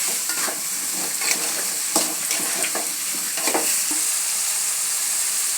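Brinjal frying in a pan, Hubballi-style palya, as a steady sizzle runs under repeated close scraping and clacking stirring strokes, with no voices.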